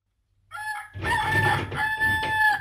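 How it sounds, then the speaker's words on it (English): A rooster crows a full cock-a-doodle-doo, loud and close, with a brief call at the start and then one long sustained crow with no talk over it. "I'd love to hear what a cockerel sounds like."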